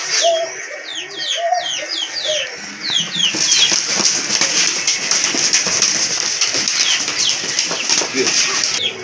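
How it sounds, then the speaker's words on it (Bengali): A pair of Lotan pigeons flap and shuffle about, with repeated soft wing flutters and bird calls over a steady background hum. Faint voices are present. "খুবই সুন্দর কোয়ালিটি ফুল এক জোড়া কবুতর।"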